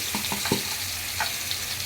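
A large koi fish, about 300 grams, frying in hot oil: a steady close sizzle with a few brief crackles and spatters near the start.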